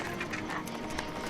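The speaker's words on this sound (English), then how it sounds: "look! Horsey!" Horse hooves clip-clop steadily on a road in a rural setting, a continuous rhythmic patter filling the short moment at moderate loudness.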